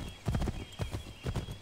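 Horse hooves clip-clopping in Assassin's Creed 3, three rhythmic bursts of hoofbeats at a moderate pace over a steady soft background hum.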